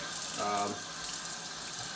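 Water runs from a newly installed Wanmai kitchen faucet set to low flow, a steady hiss with a brief tonal swell early on, heard alone at moderate level.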